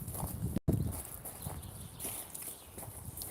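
Horse walking in the Aberdeenshire countryside, irregular soft hoof clops close by over a breezy outdoor background, with a brief dropout early on.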